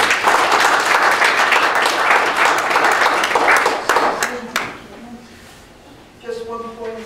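An indoor audience at an AFA meeting claps loudly and densely for about four seconds, then the applause thins out and fades, and a voice resumes speaking near the end.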